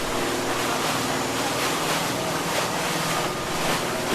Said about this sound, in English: You see the waves alongside there that are coming in.